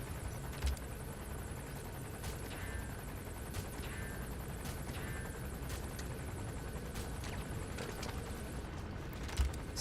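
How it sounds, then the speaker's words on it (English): A helicopter in the video game Metal Gear Solid V keeps up a steady, faint, rumbling whir throughout, with occasional distant gunfire cracks in the background. "And that helicopter's on my ass."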